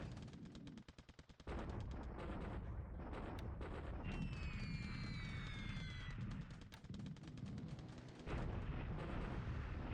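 Bombs exploding in War in the Pacific, a steady run of loud, rapid, rumbling blasts and bursts of fire filling the whole stretch, with no talk.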